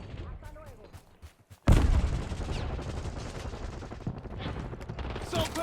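Call of Duty gunfire erupting after a quieter opening, a sudden loud blast followed by continuous rattling shots and impacts, close and heavy, with game voice callouts around it.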